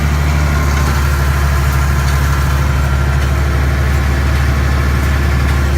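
A tractor engine idles steadily while powering a hay baler run stationary in neutral, re-baling loose hay; a constant low diesel rumble with a rhythmic mechanical throb, close and continuous with no talking.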